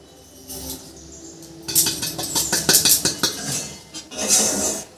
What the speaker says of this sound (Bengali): এটা শুকনো খোলায় একটু নেড়ে নেব।